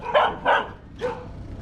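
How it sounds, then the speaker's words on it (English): Dogs on a street in Cancun bark in three loud, close yips and woofs, two in quick succession and a third after a short pause. "look at all these damn dogs"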